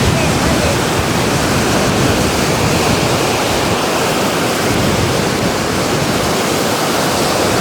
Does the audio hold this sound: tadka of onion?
no